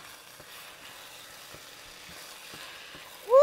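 Rice, chicken and vegetables fry in a wok with a soft, continuous sizzle and scattered scraping stir clicks, fairly faint, then a sudden louder squeaky sound at the very end.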